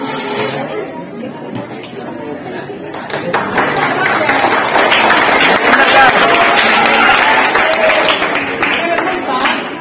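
An audience at a Gandhi Jayanti gathering breaks into sustained clapping that swells after a few seconds and holds steady, mixed with crowd chatter and voices.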